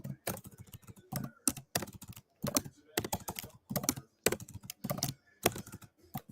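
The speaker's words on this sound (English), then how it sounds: "You're hearing me typing" Typing on a MacBook keyboard comes in quick, close, crisp bursts of key clicks separated by short pauses, with no talking over it.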